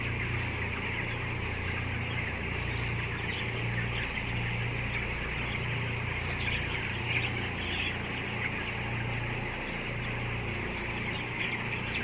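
Farm chickens, about 13 days old in a large flock, fill the air with constant dense clucking and chirping, a steady chorus with no talk over it.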